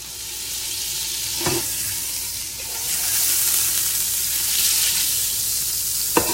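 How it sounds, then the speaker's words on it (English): A stick of Blue Bonnet margarine sizzles steadily as it melts in a hot pan, a constant bright frying hiss with a couple of sharp taps from utensil contact. "I'm going to take a stick of that butter, and I'm going to just drop it in the pan."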